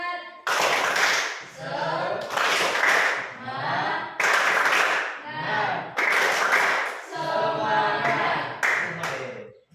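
A group of students performs an Indonesian tepuk semangat spirit clap, bursts of rhythmic clapping alternating with chanted voices in repeated patterned cycles, close and lively throughout.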